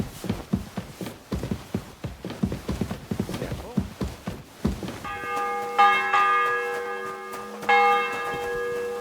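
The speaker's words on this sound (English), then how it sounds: "The bell's ringing for Hans the 5th time." In the medieval game Kingdom Come Deliverance 2, horse hooves clip-clop along before a church bell starts tolling, two loud ringing strikes that ring out and decay.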